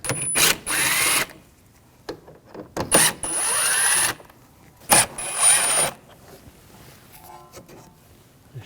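A power tool with a T25 socket backs screws out during headlight assembly replacement on a 2006-2009 Audi S4, in several short whirring bursts separated by quiet pauses, close and loud.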